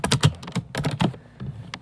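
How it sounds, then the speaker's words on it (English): Quick bursts of typing on a computer keyboard, entering a name into a Windows XP setup in VirtualBox, with irregular clusters of close keystrokes and short pauses, no voices. "I'm going to type in Windows XP."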